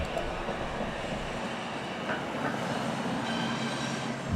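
Train rolling steadily through a curve beside a road crossing at Bullock and Snyder, a continuous close rumble of wheels and cars with faint squeal overtones, loud and unbroken throughout.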